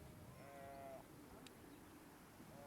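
Sheep in a grassy field bleat twice, with a wavering cry near the start and a shorter one at the end, both faint against a soft outdoor background.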